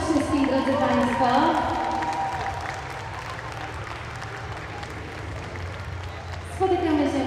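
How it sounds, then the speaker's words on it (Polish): Sustained applause from a crowd at a dance competition, loud at first and easing off, with a voice speaking over the start and again near the end. "Brawa dla nich wszystkim, drodzy Państwo."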